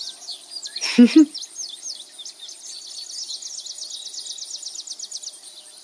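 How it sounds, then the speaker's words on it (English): Birdsong ambience on a tabletop game map, with a steady run of repeated high chirps and trills that carries on throughout, and a brief low bump near the start. "the birds chirping and stuff goes really well with this map"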